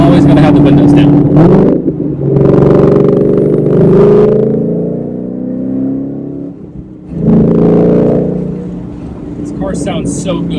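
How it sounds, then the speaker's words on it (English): A Ford Mustang fitted with a Borla exhaust accelerates hard through the gears, a loud, deep exhaust roar rising in pitch with short breaks between shifts, heard from inside the car. "Let's do a little acceleration here, shall we?"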